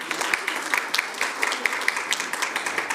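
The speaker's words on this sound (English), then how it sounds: "Another round of applause, please." Audience applause at a school board of education meeting, a steady patter of many hands clapping at moderate distance, continuous through the clip with scattered sharper claps standing out.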